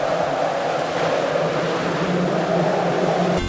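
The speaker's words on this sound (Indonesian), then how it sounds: "itu adalah bunyi angin ya" Steady wind blowing outdoors, a continuous broad rushing noise without pauses for the few seconds it lasts, moderately loud, with no voices.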